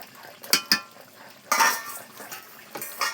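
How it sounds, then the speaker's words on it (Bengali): A pot of curry lifted off a home kitchen stove, with a few loud metallic clanks and scrapes in quick bursts and no voices. "এবার তরকারিটা নামাই নেবো।"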